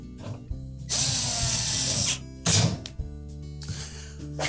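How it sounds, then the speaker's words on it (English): A power drill drives a screw into the back panel of a GE range, whirring in loud, close bursts broken by ratcheting clutch clicks and metallic rattles between runs. "Then we'll install the single screw at the very bottom."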